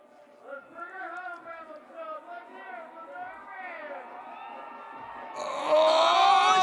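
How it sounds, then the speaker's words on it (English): A crowd at a snowboard contest cheers and whoops in the distance beneath a commentator's continuous talk, swelling to a loud burst of screaming and cheering in the last second. "You can hear the crowd going nuts."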